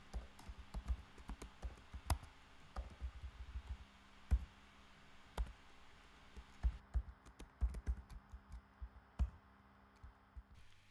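Computer keyboard typing while writing code comments, quiet irregular key clicks in bursts with short pauses, close and fairly soft over a low steady hum, with no voice.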